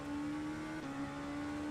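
An LMP2 prototype race car's engine drones steadily at Suzuka in the rFactor 2 sim racing game, a loud sustained whine holding one pitch, dipping briefly and returning.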